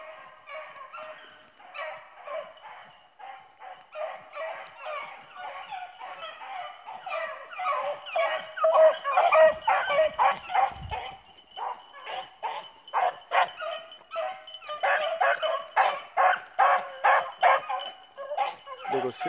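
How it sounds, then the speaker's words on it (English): Hunting dogs bay in a chase after a rabbit, with repeated yelping barks and howls that grow denser and more rhythmic, heard from a middle distance, with a few voices. "Dogs on him, man."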